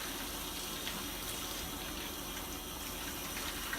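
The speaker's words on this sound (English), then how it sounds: "to rinse the soap off and have the water run from his fingertips down towards his elbows" Tap water runs steadily into a sink as soap is rinsed off the arms during a surgical scrub, a faint, continuous splashing flow with no voices.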